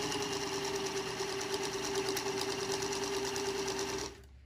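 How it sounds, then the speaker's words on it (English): A Singer Featherweight 221 sewing machine runs steadily along a serged seam, a loud, even mechanical whir with rhythmic needle ticking that cuts off abruptly near the end. "all I'm going to do is run kind of in the center of the serge seam down to about the corner."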